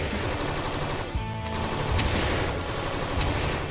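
Rapid machine gun fire in the video game Defenders of Ekron rattles loud and dense, with bursts pressed nearly back to back and a brief break around the middle.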